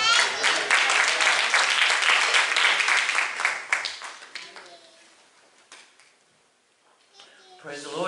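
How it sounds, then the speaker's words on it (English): A church congregation claps for a sister coming up to give weekly announcements, a dense burst of hand clapping that fades away over several seconds, then a voice starts speaking. "Let's receive her at this time with a great big hand clap."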